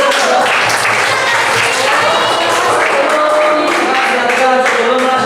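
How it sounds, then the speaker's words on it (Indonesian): A classroom claps for a student group during an informatics lesson, giving loud, close, continuous applause that holds steady across the clip, with a few voices mixed in. "Tepuk tangan untuk"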